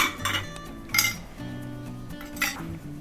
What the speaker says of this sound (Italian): metto a sanificare i vasetti e i coperchi